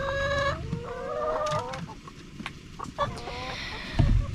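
Chickens clucking and squawking in a coop, repeated close calls rising and falling in bursts over a steady background of scratching and rustling, with no talk.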